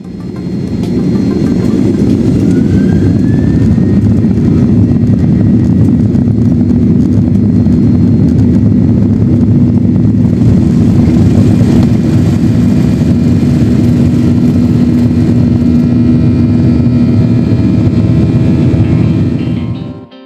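Batik Air Malaysia flight OD 152 airliner taking off, a loud, steady engine roar with a strong low hum that holds without a break for about twenty seconds before easing at the end.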